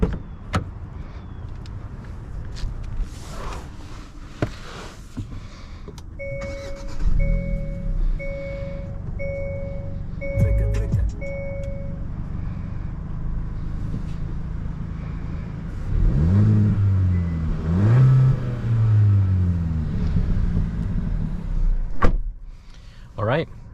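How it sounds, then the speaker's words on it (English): A 2023 Hyundai Elantra N Line, the sportier Elantra, is heard from inside during a test drive, with a steady engine and road hum, door and power-window mechanism sounds, and a short rise in revs near the end. "let's go ahead and take this N-Line on a POV test drive and see how it does"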